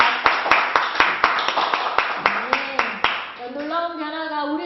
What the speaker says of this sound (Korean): 우리 한번 박수로 격려받아 부탁드립니다.